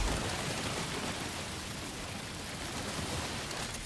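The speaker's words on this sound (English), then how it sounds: "hope some timefall rain can take care of the rest of this" Timefall rain in Death Stranding 2: On The Beach, a steady, fairly loud wash of falling rain with no distinct drops or voices throughout.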